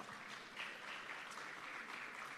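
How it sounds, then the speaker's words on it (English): An audience at a ministry rebranding and quality recognition event applauds the minister with steady, continuous clapping that stays fairly soft and distant throughout. "A round of applause for our minister."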